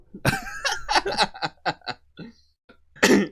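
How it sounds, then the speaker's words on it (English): Close, loud coughing bursts from a man on a couch during a casual gaming chat, a quick rough sequence of coughs and throaty sputters, then a pause before one final harsh cough. "Cough."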